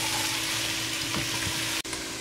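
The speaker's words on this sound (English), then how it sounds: "And we'll continue stirring. It will take also about 3 minutes to saute this." Carrots, celery and peppers sautéing in a pan while being stirred, a steady close sizzle with a brief dip near the end.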